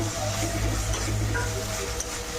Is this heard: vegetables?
yes